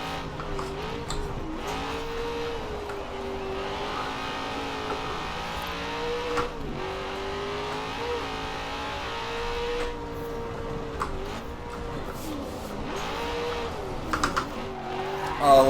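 In Forza Horizon 4, a car engine drones and shifts pitch as it drives off-road through winter terrain, with revs rising and dipping and a few soft clicks from a racing wheel setup.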